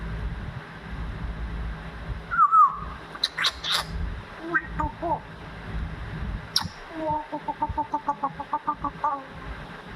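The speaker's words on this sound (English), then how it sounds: "There's a big bird." A grey parrot kept as a pet calls nearby, giving a few sharp squawks followed by a rapid run of clucking chatter, with people talking in between.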